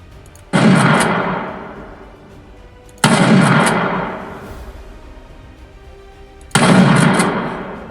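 A shotgun fires three loud, separate blasts at enemies in the Game Guru game, each a sharp boom with a decaying tail, spaced a few seconds apart.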